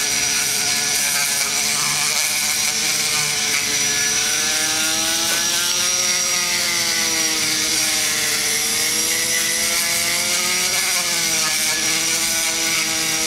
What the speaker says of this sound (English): Take the bit, start working the valve guide.